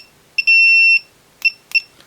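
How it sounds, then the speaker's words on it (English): An Owon XDM bench multimeter gives sharp electronic beeps during a diode test: a sustained tone of about half a second followed by two quick chirps, loud and close. "whether or not it actually does beep during diode test"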